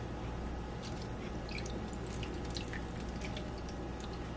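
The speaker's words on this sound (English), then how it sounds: "Okay, so now I'm gonna come and add some water." Water is poured into a baking pan as a water bath around a New York cheesecake, a steady close trickle and drip running throughout with no talk.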